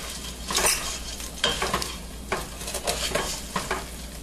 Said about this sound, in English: You want to just keep stirring that, work the crispy parts through.